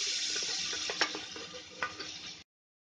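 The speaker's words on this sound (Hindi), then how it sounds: "अब इसमें मैं सबसे पहले मक्खन डाल देती हूँ।" Butter sizzles steadily in a hot pressure cooker, a bright crackling hiss with a couple of soft clinks, before cutting off abruptly.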